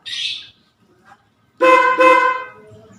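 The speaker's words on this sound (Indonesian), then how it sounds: "Kita cobain klakson." A newly installed horn on a Yamaha Vixion R motorcycle sounds with one short blast after a brief hiss and click, loud and close, ringing with a bright buzzing tone before cutting off.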